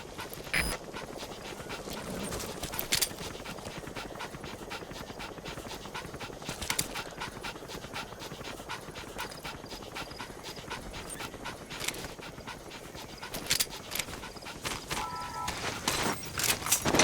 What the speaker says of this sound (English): That wild dog pup. He's a tough little guy.